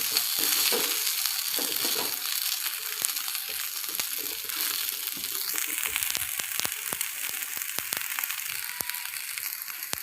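Kande poha, flattened rice with onion, being sautéed and stirred in a pan makes a continuous bright sizzle broken by frequent scraping and tapping of a spatula, close and moderately loud with no talking.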